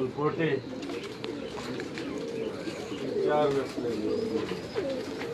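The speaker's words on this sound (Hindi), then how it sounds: "वहाँ फिरोजपुरी, रामपुरी और बांके कबूतर हैं" Ferozpuri, Rampuri and Banke pigeons coo inside a cage, several overlapping low, rolling calls repeating close by, while people talk over them.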